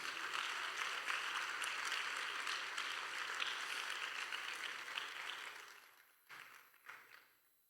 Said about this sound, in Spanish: Dele fuerte el aplauso si es para Dios.